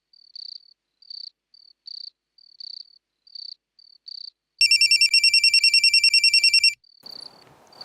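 A phone rings during a call in a Kannada TV serial scene: a repeated electronic ringback tone in short, evenly spaced pulses, then a loud, buzzing trilling ring for about two seconds, followed by faint noise.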